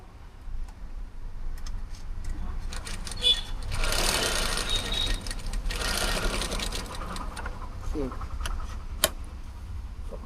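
Sewing machine stitching a fold of fabric in a tailor's shop, a steady mechanical whirring run that rises in the middle and tapers off with scattered clicks, heard close with speech nearby.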